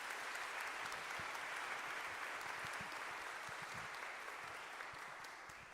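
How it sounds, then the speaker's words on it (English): A church audience applauds its clergy at a theology lecture event, steady dense clapping sustained evenly throughout, fairly faint and distant, fading slightly at the end. "I would like to give a round of applause to our clergy."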